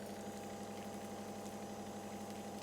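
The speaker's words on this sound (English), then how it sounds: "now we've got the system running and we've got the water pumping through the system, through the filters and coming out through the product hose" A Rainman watermaker pump runs steadily, pushing water through its filters and out the product hose, giving a constant close humming drone with a watery rush and no pauses.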